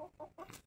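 Hens clucking softly indoors in a henhouse at dusk, a few short close clucks in quick succession, faint and alone.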